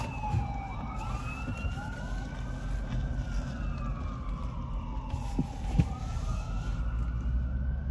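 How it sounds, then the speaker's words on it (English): Emergency vehicle sirens wail and sweep up and down as they pass along a street, fairly loud and sustained over a low rumble of traffic, with no talking. "Is it all them sirens necessary?"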